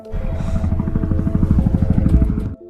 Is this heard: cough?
no